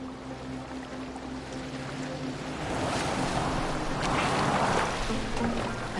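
A boat moving through water in a video game, with a continuous wash of water and rushing air that swells louder midway through and stays steady, with no voices.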